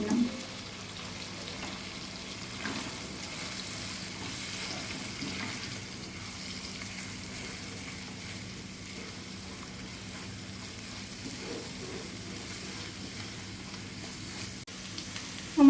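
An egg fries with a little turmeric in a pan, making a soft, steady sizzle that holds quietly throughout with only faint clinks and no voices.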